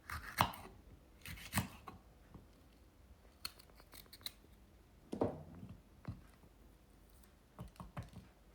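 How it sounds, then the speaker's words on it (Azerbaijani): A knife cuts through bell peppers being prepared for a mixed vegetable pickle, giving a few quiet, sharp cuts at irregular intervals with soft handling sounds between them and no speech. "Biberləri bu formada doğrayıb və içərisinin toxumlarını təmizləyirəm."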